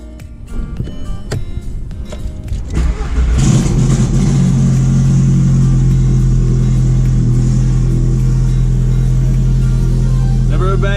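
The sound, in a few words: Volkswagen Jetta big turbo E85 engine cold start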